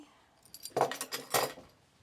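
Metal knitting machine weights clink and jangle as they are lifted off and handled, two brief clustered bursts of metallic rattling close by in a quiet room.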